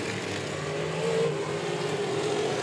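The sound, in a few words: race car on figure 8 track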